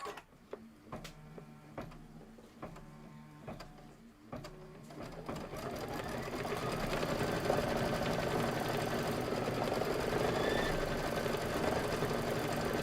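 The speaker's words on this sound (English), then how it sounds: "you can just go ahead and hit start and let it do the quilting" A computerized sewing machine quilting a block runs a steady, continuous stitching drone that builds in the second half, after a few isolated clicks and taps near the start.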